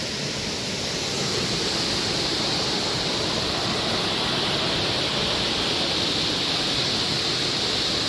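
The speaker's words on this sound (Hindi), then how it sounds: "वहाँ से पानी निकल रहा है। आगे उसका आगे भी जा सकते हैं" Rushing water pours from a waterfall at Demul, a dense, constant roar of loud broadband noise that fills the whole stretch without any voices.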